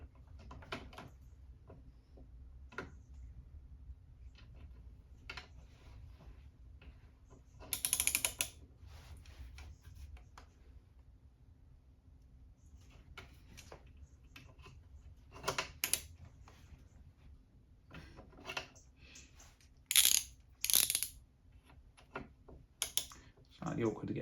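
Torque wrench tightening a hand guard bolt on a Moto Guzzi Mandello V100 motorcycle, with quiet scattered ratchet clicks and a few louder sharp clicks against low background, close up.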